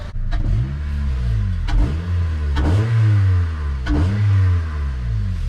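An Acura TSX engine fitted with a short ram intake revs up sharply several times, each burst of throttle climbing in pitch and falling back to a steady idle between them, loud and close.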